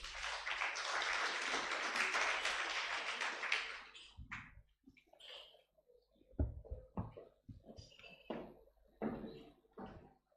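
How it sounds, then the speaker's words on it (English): An audience at a law convention claps in a dense, sustained burst for about four seconds. The applause then thins into scattered taps and knocks in a quiet hall. "A round of applause for Pros Kembabazi Buhenga."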